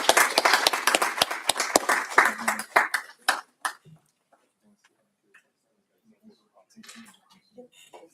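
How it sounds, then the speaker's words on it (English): An audience at a school board meeting claps in a loud burst of applause that thins over about three seconds to a few scattered claps, followed by quiet room noise and faint movement. "If we can give them a huge round of applause."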